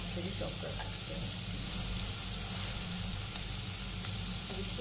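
Finely chopped onion for aloo paratha stuffing frying in a pan, giving a faint, even, continuous sizzle with a low background hum and no clear stirring strokes.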